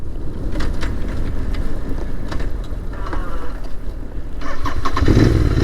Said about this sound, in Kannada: ಓಹ್ ಚಾಲು ಆಯ್ತು, ಸೆಲ್ಫ್ ಚಾಲು ಆಯ್ತು.